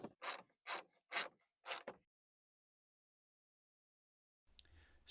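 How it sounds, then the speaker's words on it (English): A ratchet with a 10 mm socket loosens the grille bolts on a Ford F-150: four quick, close ratcheting bursts in a steady rhythm, then silence and a faint mechanical rustle at the end. "use a 10 millimeter socket and remove the 4 bolts holding the grill into the frame."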